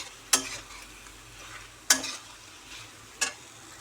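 Leaf curry cooks in a pan while a spoon stirs it, producing three sharp scraping clacks spaced about a second and a half apart over a low, quiet bubbling simmer.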